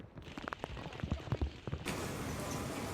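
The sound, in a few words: heavy rain during Typhoon Chanthu in Tokyo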